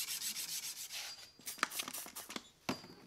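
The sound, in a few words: sanding a stainless damascus knife blade with Windex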